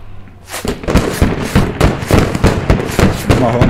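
Vehicle gunfire in the military shooter game Squad, a rapid string of sharp booming shots in an irregular burst lasting several seconds, loud and close, with a voice speaking over it.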